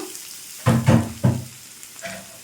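Cucumber pieces frying in oil for a chutney, quiet background sizzle with three brief louder crackling bursts as the pieces are stirred or tossed.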